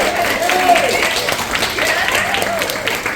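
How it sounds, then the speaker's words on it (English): A crowd breaks into applause, a dense wash of clapping with some voices mixed in, steady and fairly loud for a few seconds. "big round of applause if you've ever eaten Danny's food"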